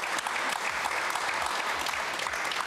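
A studio audience on a Serbian magazine TV show applauds, a dense, even stream of clapping from many hands that holds at full strength throughout, with a few voices faintly underneath.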